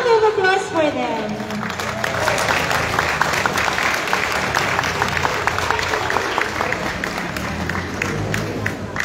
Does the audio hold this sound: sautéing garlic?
no